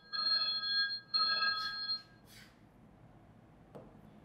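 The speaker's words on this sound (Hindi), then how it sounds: "और ये हमारा अलार्म बच्चे बोल गया" An electronic ringing alarm marks time up in a classroom lesson, sounding as two quiet warbling bursts followed by a couple of brief tones, faint and alone.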